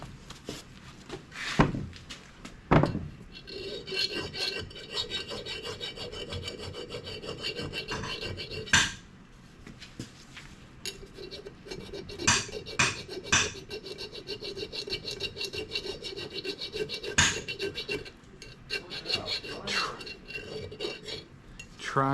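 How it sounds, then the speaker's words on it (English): A small round tail file rasps burrs and ridges out of a metal transmission bore, with repeated short scraping strokes in bursts and brief pauses between them, close and fairly quiet, with no talking. "So let me get a little round tail file and clean that up."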